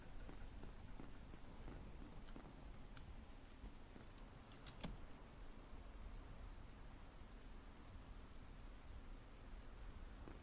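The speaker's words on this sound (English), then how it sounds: "Combined with the fucking blood rain." Steady blood rain pours down in the video game Ultrakill, a dense, even hiss of falling drops across the whole stretch, with one brief sharp hit near the middle.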